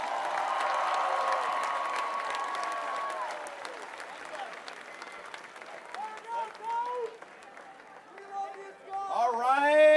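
Crowd applause and cheering at the Baylor men's basketball national championship parade, strongest early and then thinning, with voices and shouts rising over it toward the end.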